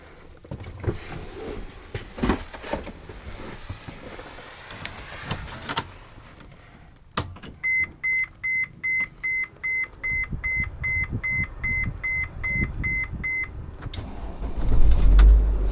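A 2012 Mercedes Sprinter 3500 van runs through a steady string of dashboard chime beeps before its engine catches with a brief, loud low rumble right at the end, with no talking.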